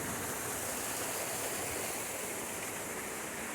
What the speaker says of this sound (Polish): Wodospad.